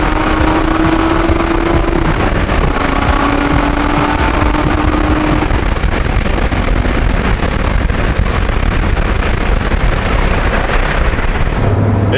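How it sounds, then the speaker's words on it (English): A loud, raw Corvette engine roar with no exhaust fitted echoes continuously through a tunnel, rising and shifting in pitch as the car accelerates. "It sounds that good without an exhaust."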